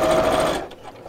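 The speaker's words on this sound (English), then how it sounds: "And I've just sewn around here." A sewing machine stitches around fabric lining in a steady, close, loud whir for about half a second before stopping, leaving faint room noise.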